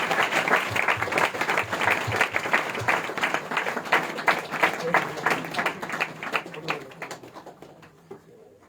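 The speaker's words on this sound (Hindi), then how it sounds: "जोर से ताली बजाकर प्रभु के नाम की महिमा करेंगे" A church congregation at a Christmas celebration claps loudly and steadily in praise, a dense roll of hand claps that thins and fades toward the end, with some voices mixed in.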